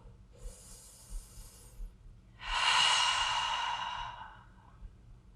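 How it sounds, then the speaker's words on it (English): A deep breath during a restorative exercise class: a soft, airy inhale followed by a longer, louder exhale, both close and breathy, with no talking. "take a deep breath in and out"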